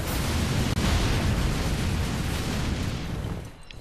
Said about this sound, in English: Bombing run, here we go.